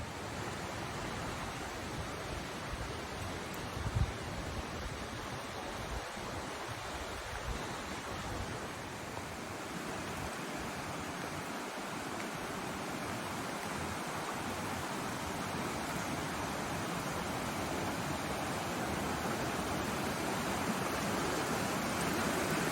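Lewis River in Clark County, Washington flowing in a steady, even wash of water noise, soft and continuous with no speech.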